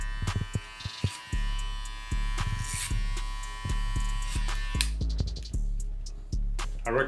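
An electric hair clipper buzzes close up while debulking hair for a burst fade, a steady motor hum broken by repeated short strokes and pauses as it cuts.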